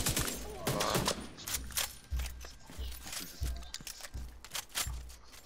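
Repeated gunshots crack and thud at an uneven rhythm during a shootout with a sniper in The Division 2, fairly quiet and mixed with game effects and a voice.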